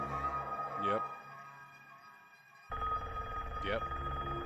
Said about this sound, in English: he hears ringing